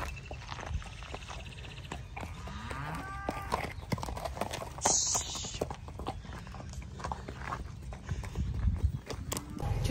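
Horses, including an unruly mare, move about outdoors during loading, with hoof clatter and snorting over a rumbling, windy background.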